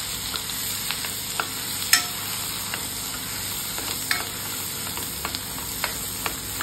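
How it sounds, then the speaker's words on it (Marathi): Masala with turmeric, mustard seeds and cumin frying and sizzling in a pan for Khandeshi dal kanda, under a steady hiss with intermittent spoon scrapes and clinks as it is stirred. "आता आपण हा मसाला मोहरी जिरे सर्व एकजीव करून घेऊया।"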